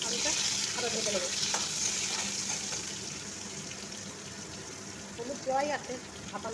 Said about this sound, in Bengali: আলুটা আরও ভেজে নেব।